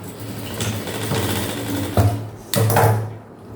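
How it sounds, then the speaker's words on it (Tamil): A sewing machine stitching a seam on a half-circle maxi dress, close rapid whirring bursts with a brief pause and a clunk between runs. "வச்சு ஜஸ்ட் நம்ம அப்படியே ஒரு தையல் போட்டுக்கலாம்."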